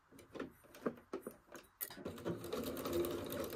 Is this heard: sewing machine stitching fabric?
yes